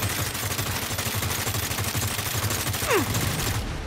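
Rapid, unbroken automatic gunfire from a weapon in the video game Saints Row, a dense rattling stream that keeps firing without pause for the whole stretch, loud and close.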